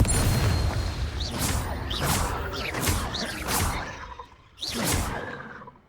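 In Hogwarts Legacy, the Confringo fire-blast spell is cast again and again, each cast a bright whooshing burst with a dull boom, about four in quick succession, a short lull, then one more.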